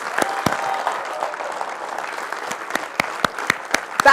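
A crowd at an Atomy India felicitation event claps in welcome of Crown Master Jong Mi Kim, a brief burst of moderately loud applause marked by distinct sharp claps.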